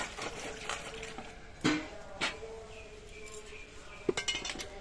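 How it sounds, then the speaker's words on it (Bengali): A peeled beetroot rinsed under running water in a kitchen, a soft steady trickle with a few sharp clinks of a bowl or utensil, fairly quiet and close. "এবার বিটটা আমি ধুয়ে নিচ্ছি।"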